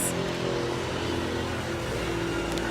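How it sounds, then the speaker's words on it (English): Small buses and yellow taxis driving along a street in Dakar, Senegal, a continuous close engine rumble and traffic drone with no break. "Look at they little buses."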